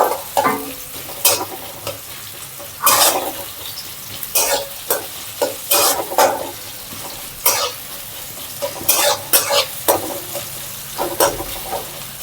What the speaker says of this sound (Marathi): कांदा चांगला फ्राय झाला त्याच्यामध्ये थोडासा लसूण टाकायचा